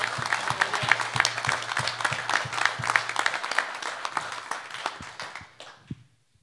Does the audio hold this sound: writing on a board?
no